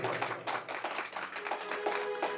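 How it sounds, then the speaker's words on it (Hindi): An audience at a religious discourse about Shiva and Sati claps, producing a dense, moderately loud patter of many hands that continues steadily with no talk. "पहले जोरदार ताली बजाओ।"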